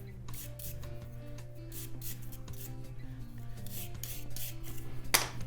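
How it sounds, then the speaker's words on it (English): Worn brake pads from a BMW F650CS motorcycle are rubbed clean by hand, giving close, repeated rasping strokes in a steady rhythm over a faint tonal background. "let's just give these pads a little clean up"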